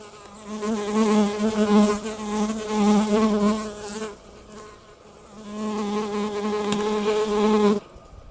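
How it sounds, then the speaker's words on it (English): A small bee perched on top of a camera outdoors buzzes close to the microphone in a steady drone, breaking off briefly near the middle before resuming, with no talking. "There's a little bee just landed on the camera, looking at me, just landed on the top of the camera here, resting"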